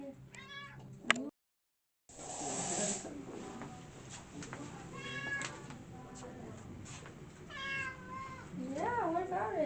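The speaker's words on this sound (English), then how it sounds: "Oh my gosh, Maddie, look at this cat. I forgot about the cat." A big domestic cat meows several times in a row, its drawn-out, rising and falling cries heard close by. People talk over and between the meows in a busy indoor space.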